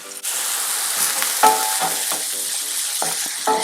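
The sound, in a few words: onions sizzling in a skillet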